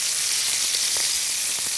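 Scallops sear in a hot pan in a home kitchen, giving a loud, even hiss of sizzling oil with a few faint pops over its short length.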